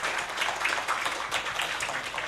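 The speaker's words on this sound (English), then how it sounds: "I would request all of you to give a big round of applause to all the" An audience applauds panelists at an international architecture seminar, a steady dense patter of many hands clapping close by, continuous throughout with no voices over it.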